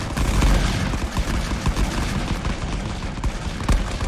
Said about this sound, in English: your men and yourself can use machine guns